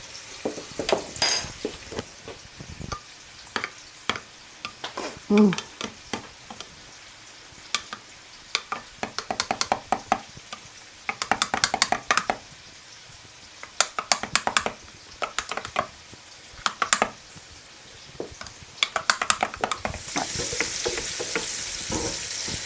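Sauce ingredients with medium curry powder sautéing in a pan for a tuna casserole, with intermittent close stirring scrapes and utensil clinks over a light sizzle, growing into a steadier sizzle toward the end.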